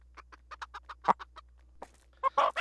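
A chicken in the horror video game Ells Tales: Egg clucks in a quick run of sharp, evenly spaced notes, then a short pause, then a louder burst of squawking clucks, close and clear.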